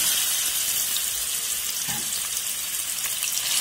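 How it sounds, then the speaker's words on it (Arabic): Ground meat frying in oil, ghee or butter for béchamel macaroni: a steady, close, continuous sizzle and crackle with no voices. "بالماده الدهنيه بتاعتنا، زيت، سمنه، زبده المتوفر، وهننزل باللحمه"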